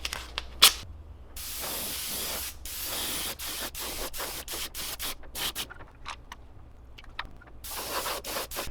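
Paint spraying onto a fishing lure body from a close airbrush, in a run of hissing bursts: a long steady spray, then many short spurts with brief gaps, loud and alone.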